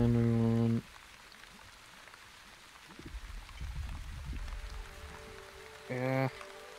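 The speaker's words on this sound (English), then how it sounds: "Really is good, these little rain clouds." Steady soft rainfall from small rain clouds in the video game Onbu, a low continuous patter that swells midway, bracketed by short bursts of a harmonic musical tone at the start and end.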